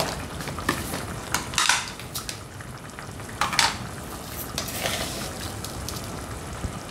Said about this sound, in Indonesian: Jadi kita tumis hingga berbau harum dan sampai tanam.